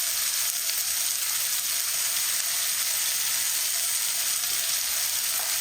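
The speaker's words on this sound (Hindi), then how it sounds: "आपने उतनी देर इनको फ्राई करना है जितनी देर ऑयल ना छोड़ दें ये भिंडियाँ" Okra sizzling in hot oil over a medium flame, a loud, steady, bright frying hiss that runs unbroken throughout, with no talking.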